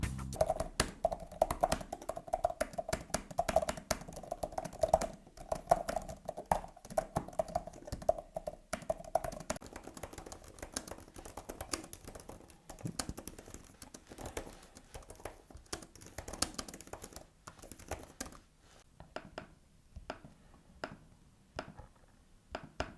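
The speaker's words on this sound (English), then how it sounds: "If you prefer a more quiet keyboard, go with the Logitech one. The keyboard and the trackpad are both less noisy." Quiet typing on a Logitech Combo Touch keyboard case for an iPad Pro 12.9, a run of soft, rapid key taps that thins into sparse, scattered clicks toward the end.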